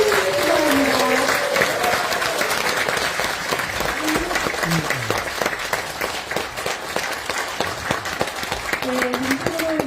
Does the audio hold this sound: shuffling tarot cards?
no